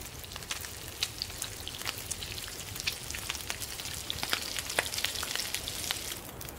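Meat frying over a campfire in the survival game The Long Dark, a steady crackling sizzle with scattered pops, moderately quiet and continuous, with no talking.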